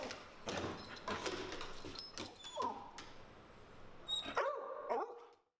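A playful dog makes rustling and scuffling sounds, followed by short yips, whimpers and barks that come in bursts close to the mic, with no talking.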